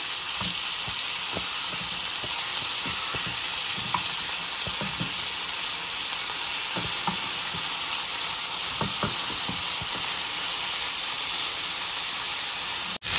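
Chicken tawa fry cooking in a little oil on a tawa, a loud continuous sizzle with scattered scraping stirs and clicks of a spatula throughout, no voices.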